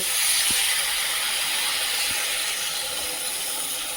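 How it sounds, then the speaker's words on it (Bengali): Water poured into a sizzling potato and pointed gourd vegetable curry in a pan gives a steady, loud steam hiss that holds for the whole stretch, with no voices. "ভালোভাবে কষিয়ে নিয়েছি এবারে জল দিয়ে দেব"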